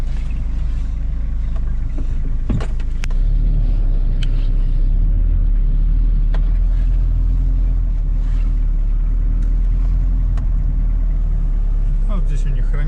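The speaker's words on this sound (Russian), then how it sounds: "Вот для этого и нужен наш чудесный грузовой автомобильчик." A cargo truck drives along a road in Yakutia, a steady low engine rumble with road noise running throughout, loud and close, with occasional knocks and rattles.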